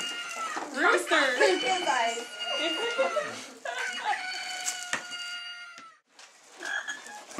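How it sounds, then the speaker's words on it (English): At a children's birthday party, a toy rooster crows electronically with a long bright tone, then a brief pause and another burst, while children and adults chatter loudly over it. "Rooster."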